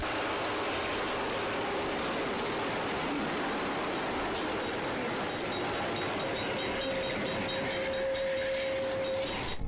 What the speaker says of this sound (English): the commuter train has managed to brake hard enough to come to a complete stop right in the nick of time